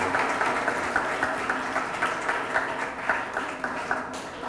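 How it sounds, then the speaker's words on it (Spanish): An audience at a conference breaks into steady applause, a dense, moderately loud patter of many hands clapping together that carries on evenly for several seconds. "Muy bien. Un aplauso."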